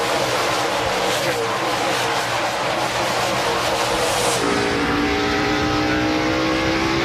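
NASCAR Winston Cup stock cars on fresh tires roar back to speed on a green-flag restart at Bristol Motor Speedway, a dense, loud pack of engines accelerating continuously, with the pitch shifting as they pass.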